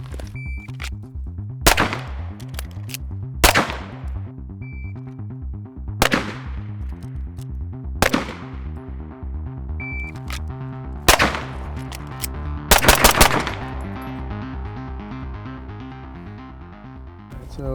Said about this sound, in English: Now let's get into the more fun shooting.